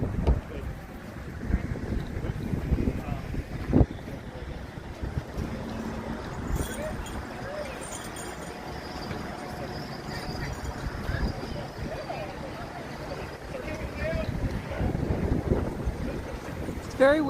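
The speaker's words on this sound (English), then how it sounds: "It's very windy." Strong wind gusting outdoors at a busy outdoor chuckwagon cookoff event, a rumbling buffeting roar on the microphone that swells and eases, with people talking faintly underneath.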